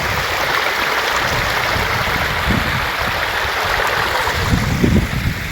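A freshwater river pours into the sea, making a loud, continuous rush of flowing water blended with surf, steady throughout with no voices.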